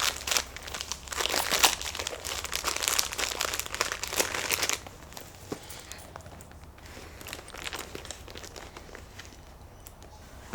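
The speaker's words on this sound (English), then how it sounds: "Let me just put the packet of tissue in a different spot." A packet of tissues is shifted around inside a Chanel-style mini flap handbag, giving close crinkling and rustling for about five seconds before the sound drops to faint handling noises.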